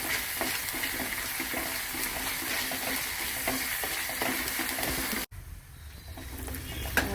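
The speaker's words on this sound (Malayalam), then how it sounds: "ഞാൻ അരച്ച് വെച്ചത് ഉള്ളി, പച്ചമുളക്, വെളുത്തുള്ളി, കറിവേപ്പില, ഇഞ്ചി, തക്കാളി എല്ലാം കൂടെ അരച്ചത് ഇതിലേക്ക് ഒഴിക്കുന്നത്" Ground paste of onion, green chili, garlic, curry leaves, ginger and tomato poured into a hot frying pan, giving a steady loud sizzle with stirring scrapes that cuts out abruptly near the end to a quieter hiss.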